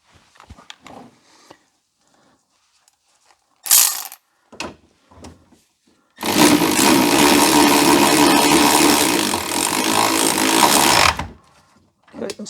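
A wrench ratchets on bolts while fitting the final drive on a BMW E87, E90, E91 or E93: scattered clicks and handling noises, then a loud sustained burst of ratcheting for about five seconds, close up.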